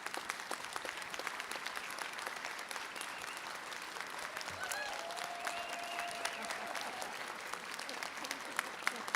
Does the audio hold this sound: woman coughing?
no